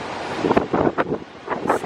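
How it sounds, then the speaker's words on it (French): Strong wind in Essaouira buffets the microphone in loud, irregular gusts, broad roaring bursts rising and falling over about two seconds with no voices. "Il y a beaucoup de vent à Essaouira."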